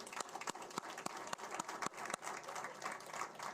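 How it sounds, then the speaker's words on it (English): A town hall crowd claps for a staff member, a soft, distant patter of many hands with sharper individual claps scattered through, quiet and without talk. "I guess we can still clap for him."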